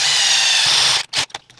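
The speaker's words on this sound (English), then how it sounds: "So I just read a comment from a guy saying that these little drill taps work great in an impact." An impact driver spins a small drill tap into a workpiece for a DIY CNC laser cutter gantry, a loud continuous high whine for about a second, then a few short bursts as it stops and restarts.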